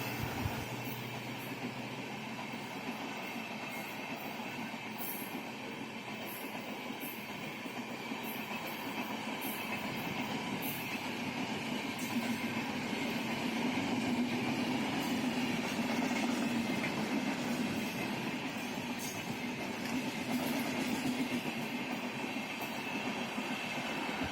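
The 15009 express train on the Gorakhpur–Mailani route passes near a railway crossing, with a steady rumbling roll of wheels and wagons and rhythmic clicks and rattles, sustained and moderately close, swelling midway.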